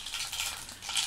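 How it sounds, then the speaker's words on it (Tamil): Mustard seeds and urad dal are tempered in hot oil in a pan, giving a steady bright hissing sizzle with faint crackle, close and continuous, with no voices. "இப்போ தாளிச்சுக்கலாம். கடுகுளுந்து"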